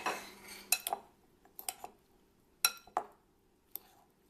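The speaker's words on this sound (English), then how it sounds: "I'm just going to stir this cool quinoa into our salad" A spoon stirs cooked quinoa into a vegan summer salad, producing sparse clinks and scrapes of utensil against a bowl in short clusters with quiet gaps between.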